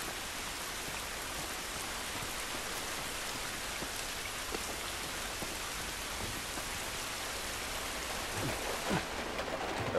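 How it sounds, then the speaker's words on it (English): Constant heavy rain pours outdoors in The Last of Us Remastered, a dense steady hiss with scattered drops that stays even throughout, with no voices. "It's raining, but it wasn't good."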